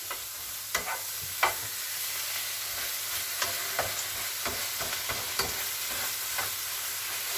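Cheese slices and minced meat being stirred in a hot frying pan, with a steady sizzle and repeated soft scraping clicks of the utensil against the pan, close up and without talk.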